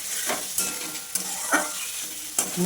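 Banana flower and vegetables being stir-fried in a pan for a mash: a constant close sizzle broken by about four brisk scraping stir strokes, with no voices.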